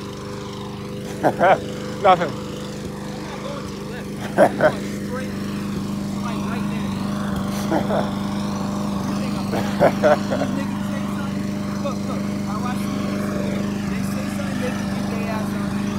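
A lawn mower cuts grass in a backyard, a steady mid-distance engine drone running unbroken throughout, with a few brief voices and clicks over it.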